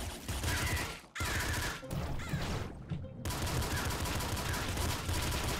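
Smart gun in the Nuclear Throne Ultra Mod video game firing in dense rapid bursts, loud continuous chattering gunfire with a couple of short gaps.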